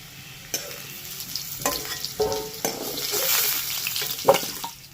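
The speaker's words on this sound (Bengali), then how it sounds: "দেখো আলুগুলোকে এরকম পুরো লাল করে ভেজে নিতে হবে।" Potatoes frying in hot oil in a pan until deep red, a continuous close sizzle broken by scraping and stirring sounds from a spoon moving the pieces.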